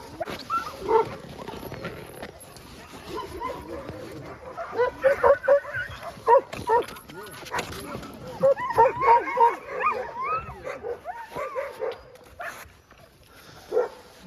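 Sled dogs that have run the Iditarod Trail in remote Alaska bark, yip and whimper in an excited overlapping chorus close by, with bursts rising and falling throughout.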